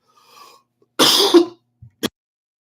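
One hoarse, forceful cough rings out close by after a faint breath, then a couple of small throat sounds follow in a quiet room.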